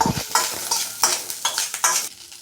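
Ingredients fry in oil in a pan for tamarind chutney, heard as a close sizzle broken by rhythmic scraping stirs, about five strokes in quick succession, with no talk.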